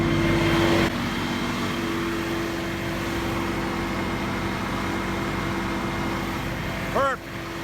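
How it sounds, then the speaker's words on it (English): A farm tractor with its PTO turning runs steadily at close range on a cool day, a constant engine drone with a low hum carrying through, ending in a brief rising whine near the end. "Tractor's running nice."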